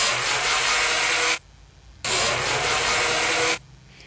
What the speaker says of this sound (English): I'm going to go ahead and hit it with a grinder.